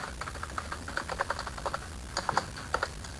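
Someone types on a computer keyboard in a steady run of light, quick keystrokes with short pauses, close and clear over a faint background hiss, with no talking.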